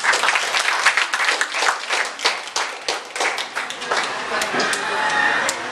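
Audience applause at a school debate, a burst of clapping that continues steadily for several seconds while a voice speaks over it.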